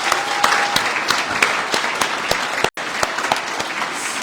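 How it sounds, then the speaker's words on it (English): An audience at a community celebration in Six Nations applauds hockey player Brandon Montour with sustained, dense clapping and sharp individual claps, steady and fairly loud throughout with one brief dropout near the end. "a huge round of applause to Brandon"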